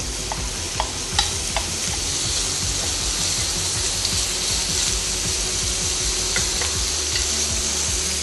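Bacon fries in a little oil, its fat rendering in a pan for a shrimp and leafy green stir-fry. A loud, dense sizzle carries on steadily, with scattered sharp clicks of utensils early on.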